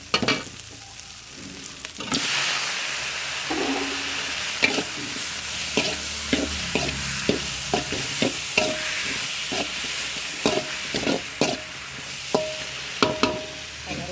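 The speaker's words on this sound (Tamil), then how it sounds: "நம்ம தக்காளி போட்டுக்கலாம்." Tomatoes drop into a pan of fried mint and curry leaves for chutney, setting off a loud sizzle, followed by steady frying hiss with repeated scraping, clinking stirs of a spoon against the pan.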